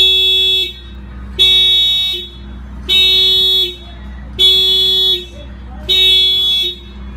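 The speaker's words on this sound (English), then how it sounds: "Fire off the alarm." A 2017 Honda Civic's alarm honks in five evenly spaced, loud horn blasts about 1.5 seconds apart, each held for roughly three-quarters of a second with quieter gaps between, close by and without talk.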